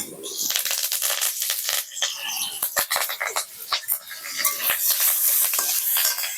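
Fresh curry leaves drop into hot oil in a village kitchen for spicy Jhal Sujhi, setting off a loud, dense sizzle with irregular crackling pops that continues steadily with no one talking.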